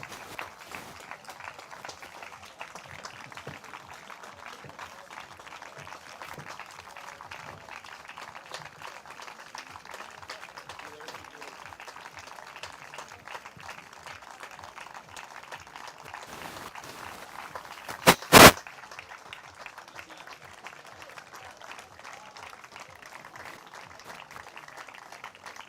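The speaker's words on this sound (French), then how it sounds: "On va applaudir très fort en pensant à Freddy." Spectators applauding in the stands at an athletics meeting during the final straight of a 400 metres race, a steady distant wash of clapping with a brief sharp burst near the end.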